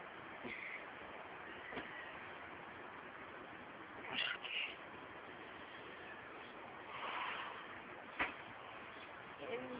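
A house cat meows a few times near a door, short plaintive calls rising out of a quiet, muffled background with faint handling noise between them.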